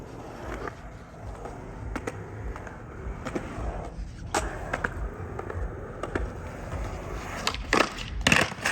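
A skateboard trick attempt, a Smith kick body barrel at a gnarly street spot, with sharp wheel and deck clacks and grinding scrapes scattered through rolling noise, the loudest impacts near the end.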